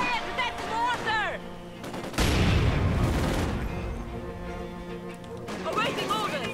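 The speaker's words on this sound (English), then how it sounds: "That's mortar!" In Company of Heroes 2, a heavy mortar blast erupts mid-battle, a loud booming rumble with scattered gunfire, framed by soldiers shouting orders before and after.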